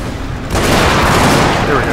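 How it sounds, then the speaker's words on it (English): Artillery in the Steam and Steel mod for the Medieval 2 video game opens up with a sudden, loud barrage of booming cannon fire that rolls on continuously, close and heavy, after a brief quieter lead-in. "Oh my god, this artillery... The artillery is deadly in this mod."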